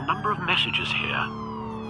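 A police car siren wails in the Batman Telltale video game, a steady rising and falling tone under a voice speaking.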